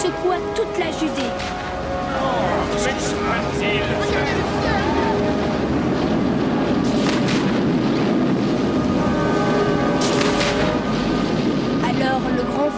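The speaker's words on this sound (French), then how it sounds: "Une tempête fit rage. Tout devint noir. Et un tremblement de terre secoua toute la Judée." A raging storm with an earthquake shaking Judea, a film sound effect: a dense, loud, continuous roar and rumble with gusting wind-like noise and deep booms, sustained without a break, with tonal layers running through it.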